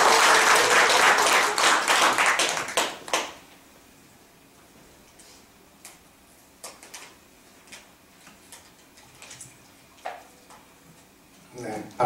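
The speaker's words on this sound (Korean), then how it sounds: "네, 박수 한번 드리겠습니다." An audience at an academic society meeting applauds for a visiting speaker, a loud burst of clapping for about three seconds that cuts off, followed by scattered faint clicks and knocks in a quiet room.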